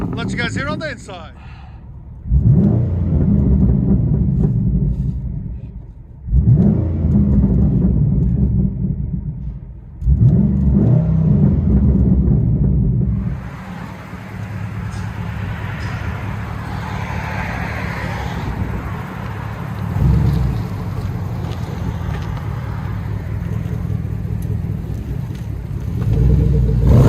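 Inside a 2009 Pontiac G8 GT with a 6.0L V8, true dual exhaust and muffler delete, the engine revs three times in loud, booming pulls, then settles into a steady, low cabin drone as the car drives on.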